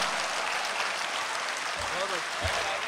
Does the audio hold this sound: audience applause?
yes